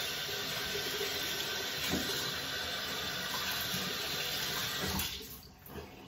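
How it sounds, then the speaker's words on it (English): Warm water runs steadily from a tap over a brush, a continuous close hiss and splash that cuts off near the end, leaving a brief quieter trickle. "This brush here, I wet it with some warm water."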